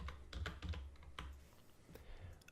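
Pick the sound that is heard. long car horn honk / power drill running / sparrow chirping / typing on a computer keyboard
typing on a computer keyboard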